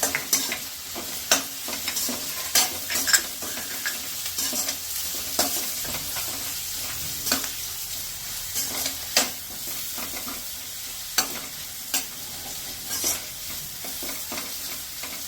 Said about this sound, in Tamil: வெங்காயமும் பூண்டு வதங்கிட்டு இருக்கும்போது நம்ம எடுத்து வச்சிருந்த வரமிளகாயை போட்டுக்கலாம்.